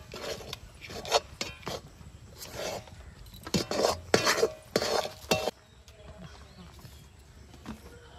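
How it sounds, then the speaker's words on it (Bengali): Rice flour being rubbed and crumbled by hand for puli pitha, a close, dry rasping and scraping in irregular bursts that grow louder mid-way, then fade to quiet handling. "চালের গুঁড়িটা ভালোভাবে খসিয়ে নিয়েছি"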